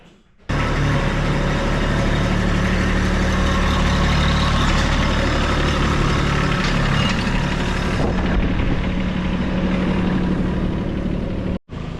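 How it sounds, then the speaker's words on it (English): A tractor engine runs steadily at close range on a farm, a constant low rumble with no talking, cutting off briefly near the end. "we're gonna get on a tractor"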